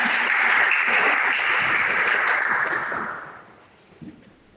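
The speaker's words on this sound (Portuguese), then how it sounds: "Uma salva de palmas ao Gustavo" A room full of people claps steadily for a few seconds, then the applause quickly fades away.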